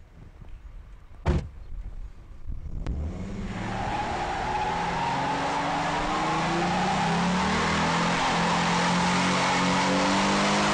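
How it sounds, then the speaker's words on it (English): A 2011 Ford Mustang V6 doing a tire-smoking burnout: after a couple of sharp knocks, the engine revs up into a loud, steady roar of spinning, squealing tires that holds close and unbroken to the end. "I'm going to smoke some tires."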